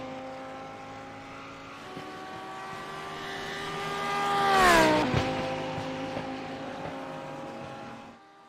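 A Lamborghini Super Trofeo race car on a flying qualifying lap at Autodromo Jose Carlos Pace, its high engine whine rising as it closes in, peaking loudly as it passes and then dropping in pitch as it pulls away.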